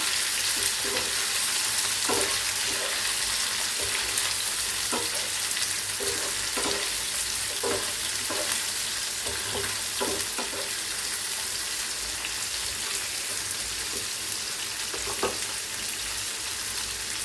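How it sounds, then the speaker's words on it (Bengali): Cubed tomatoes, chopped onion and chili fry in oil in a pan, a constant loud sizzle with repeated scraping stir strokes knocking at irregular intervals throughout. "ভালোভাবে এটাকে আমি নাড়বো।"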